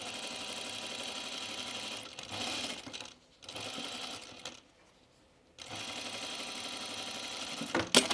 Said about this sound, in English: now I'm going to put in a little stay stitch so my sleeve stops growing